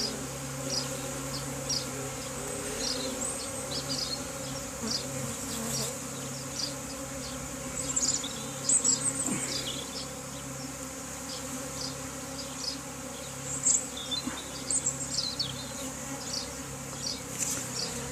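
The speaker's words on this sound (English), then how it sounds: "there seems to be a lot of bees there" A continuous hum of a swarm of bees buzzing outdoors, steady and moderately close, with individual insects occasionally zipping past louder.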